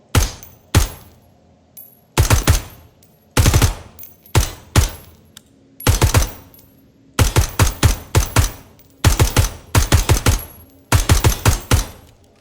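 Bursts of rapid gunfire from a tactical shooter video game, loud and close, firing in short repeated volleys separated by brief pauses, with no talking.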